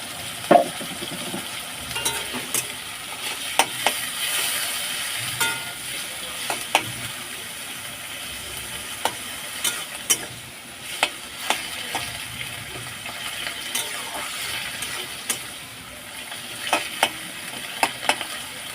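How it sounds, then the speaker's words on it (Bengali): A paste of ginger, garlic, onion and tomato frying in a pan over low to medium flame for hilsa biryani, a steady close sizzle broken by frequent scraping and clinking stirs of a utensil against the pan, no voices. "লো টু মিডিয়াম ফ্লেমে পাঁচ মিনিট ভেজে নিয়েছি"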